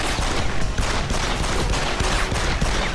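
Rapid, continuous shotgun fire in Deus Ex: Human Revolution, a dense wall of loud overlapping blasts with no pause for the full few seconds.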